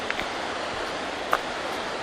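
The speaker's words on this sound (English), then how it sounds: "Some lovely waterfalls just cascading there through the rocks and down there." Waterfalls cascade through rocks beside a walking track on the Cape Wrath Trail in the Scottish Highlands, a constant rushing hiss of water heard at some distance, with a couple of faint brief knocks and no speech.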